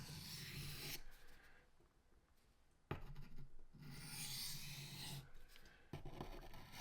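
A bushcraft knife blade is drawn across a whetstone in single passes and flipped, giving a few long scraping rasps separated by short pauses and a soft click, close and faint, with no talking.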